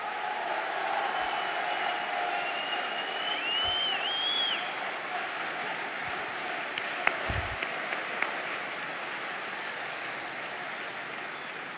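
Sustained applause from a large crowd at a French political rally launching a European election campaign, steady clapping throughout with a few whistles and cheers.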